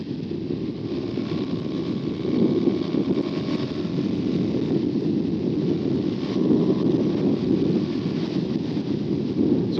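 Buell motorcycle engine droning steadily while riding, a loud continuous low rumble mixed with rushing wind noise across the whole stretch, with no voices.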